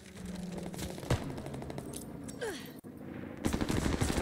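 Welgun submachine gun fire in the game Call of Duty: Vanguard rattles in rapid bursts, with metallic clinks and scraping between shots and a louder burst at the end.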